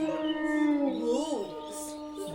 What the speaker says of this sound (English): you happen to hear some wolves howling in the distance.